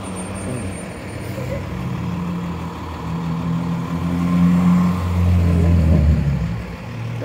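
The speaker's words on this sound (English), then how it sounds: "I have a noisy truck" A noisy truck rumbles beside a pedestrian on a city street in Halifax's North End, a loud, steady low engine drone that swells and holds close by, with general traffic noise around.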